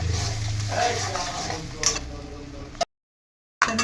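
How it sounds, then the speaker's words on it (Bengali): Spice masala with turmeric and a pinch of sugar being stirred and sautéed in a pan, with a steady soft sizzle and scraping for several seconds before a brief silence and a final clink. "মশলাটা ভালো করে কষিয়ে নেব।"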